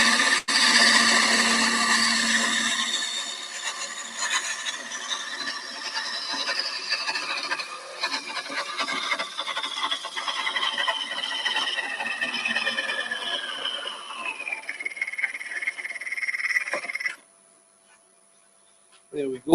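Close, continuous rasping and rubbing of abrasive on a turned wooden box lid goes on for a long stretch, then stops abruptly, leaving near silence.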